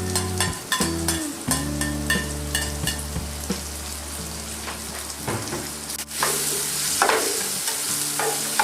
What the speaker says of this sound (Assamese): আলুখিনি দি অলপ লৰচৰ কৰি